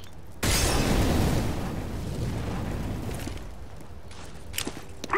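A grenade blast in a first-person shooter video game, a sudden loud boom with a long rumbling decay that fades into softer game noise and a few small pops.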